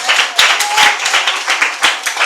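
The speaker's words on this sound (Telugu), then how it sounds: "చప్పట్లు కొట్టి దేవుని నామాన్ని మహింపరచండి" A church congregation claps together to glorify God, a dense, loud patter of many hands in uneven bursts, with faint voices mixed in.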